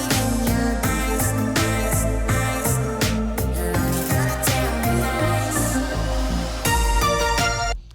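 An electronic song drop plays loud and alone, its melody set an octave lower over a steady pulsing beat with punchy bass hits, fading slightly at the end.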